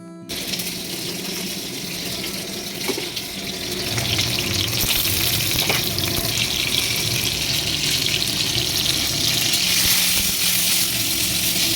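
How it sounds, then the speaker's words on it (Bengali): Papad lentil crisps fry in oil with a broad, steady hiss that swells a little after the first few seconds and then holds at an even level, close and fairly quiet, with no voices. "আমি দুটো পাঁপড় আগে ভেজে নিই তারপর পটলগুলো ভাজবো"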